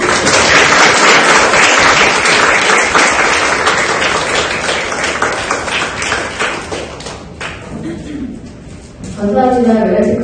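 Big audience applause at a corporate staff lecture welcoming a speaker to the stage, loud dense clapping that swells, thins toward the end, then gives way to a voice.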